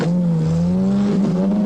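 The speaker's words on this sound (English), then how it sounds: "The Princess 2 has a responsive new engine for those tedious business trips at an average of 70 miles an hour, non-stop." The Princess 2 car's engine drones steadily and loudly at cruising speed in an advert, a continuous hum with a slight rise in pitch toward the end and no voices.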